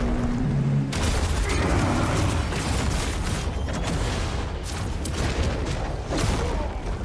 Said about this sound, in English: The explosions, man.